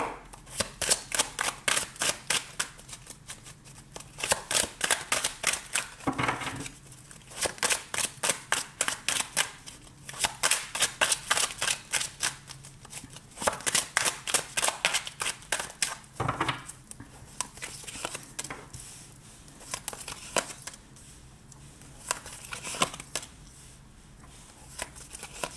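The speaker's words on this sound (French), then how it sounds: "on va continuer avec le tarot, tant que je range mes petites cartes" Tarot cards are shuffled and gathered up in repeated rapid riffling bursts, close and crisp, with short pauses between handfuls and no talking.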